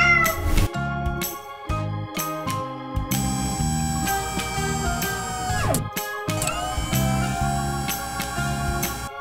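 A cat meows in a children's size-comparison learning game, the calls rising and falling clearly over a bouncy, steady musical backing that runs the whole way through.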